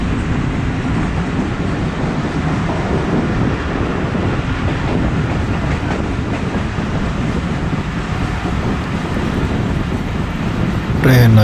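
Tezgam express train running on rails, slowly entering Mian Channu town, heard as a steady dense rumble with wind noise throughout, a faint click near the end.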